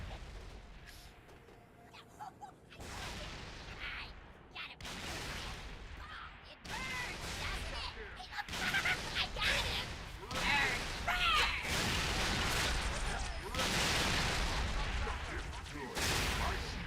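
Halo 3 ODST combat brings bursts of gunfire and booming blasts in rapid, uneven volleys, fairly loud and continuous, mixed with voices calling out during the firefight.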